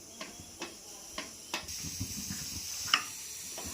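A ladle works thick fenugreek kali batter in a pan on the stove, giving soft scraping strokes at an irregular rhythm and a faint sizzle, with one sharper clack near the end.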